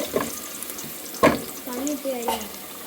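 Garlic and ginger frying in oil for a bitter kambili naranga (pomelo) pickle: a soft, steady sizzle under a few sharp clinks and scrapes of a spoon stirring the pan, close and moderately quiet.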